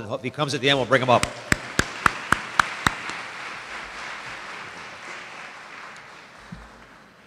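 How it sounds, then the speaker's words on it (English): A voice speaks briefly, then sharp claps start from a few people at a school recognition ceremony held by the mayor of Rochester. They quickly swell into a steady, full round of audience applause that fades slowly. "I want to give him a big round of applause,"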